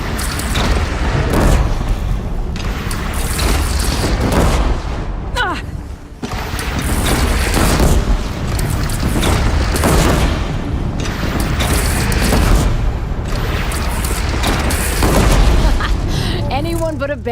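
Cannon fire from a bandit clan's single gun in Horizon Zero Dawn Remastered, heavy booms and bursts repeating in loud waves with only brief dips between them, mixed with battle noise.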